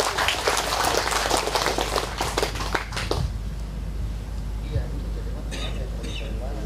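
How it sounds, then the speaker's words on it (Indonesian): Applause from an audience at a community gathering of the Sumuri tribe, a dense burst of clapping for about three seconds that then fades out beneath the lingering room noise. "Mari kita berikan aplaus dulu untuk."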